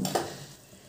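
Turmeric is stirred into spices frying over a low flame for bhadang, a quick scrape of a spoon at the start followed by a faint, fading sizzle in under a second.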